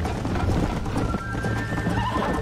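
Horse in the Red Dead Redemption video game galloping with rapid clip-clop hoofbeats and a loud neigh, close and continuous over a short stretch.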